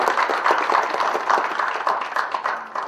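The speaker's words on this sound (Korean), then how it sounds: "박수 한번 부탁드립니다" Seminar audience at a housing policy and real estate market outlook briefing gives a short burst of steady, moderately loud clapping that runs evenly throughout.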